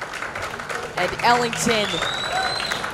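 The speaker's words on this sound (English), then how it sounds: "He deserves all the applause in the world, as he will walk off the mound" A crowd at an American Legion baseball super regional game applauds as the pitcher leaves the mound, with steady clapping running under a commentator's voice.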